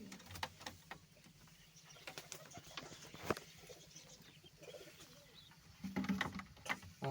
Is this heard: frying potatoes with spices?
no